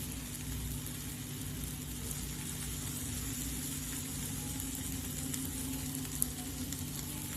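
Jowar flour thalipeeth sizzles steadily in butter on a hot pan, a constant close frying hiss over a low steady hum, with no talk.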